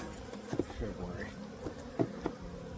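Honey bees at an open hive during an early-season inspection make a steady, dense buzzing hum close by, with a few soft knocks and handling sounds over it.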